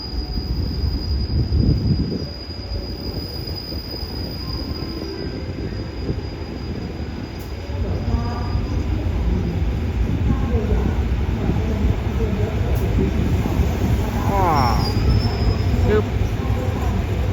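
GAE 4550 locomotive on train 418 rolls into Bua Yai Junction in Thailand, wheels squealing and rails rumbling close by as it brakes to a stop, with faint voices in the background.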